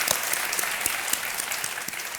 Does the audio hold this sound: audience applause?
yes